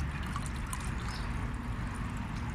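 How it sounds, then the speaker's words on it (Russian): Whey-and-water fertilizer solution is poured under a rose bush, a steady splashing trickle of liquid onto soil running continuously at close range. "Под каждый куст розы наливаю по 3 литра"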